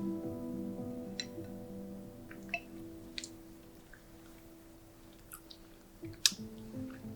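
Quiet, close chewing while tasting a lime citrus curd, soft wet mouth sounds and small squishes scattered across several seconds over a steady low hum, with no talk.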